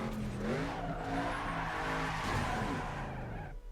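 A race car in Need for Speed: Underground 2 on PS2 boosts on nitrous during a bonus race, its engine whining up through rising gear pitches with tire squeal, steady and fairly loud throughout.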